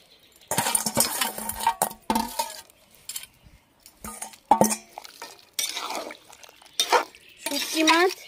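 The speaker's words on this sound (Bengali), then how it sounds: "এবার আমি ভেজে রাখা শুটকি মাছগুলো দিয়ে দিচ্ছি।" Fried dried Loitta fish goes into a pan with cauliflower and potatoes and is stirred, making repeated scraping, clinking strokes of a utensil against metal in uneven bursts, close and fairly loud.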